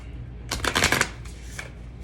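A large tarot deck is riffled and shuffled up close in a short loud burst of fluttering card slaps, followed by a softer rustle as the cards settle.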